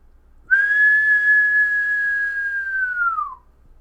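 A person whistles one long, sharp, steady note for about three seconds, loud and close, then lets it slide downward at the end. The whistle imitates the cry of La Llorona from Mexican folklore.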